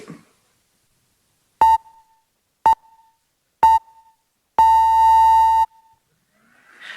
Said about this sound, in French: Les 4 bips retentissent, annoncent le départ du chrono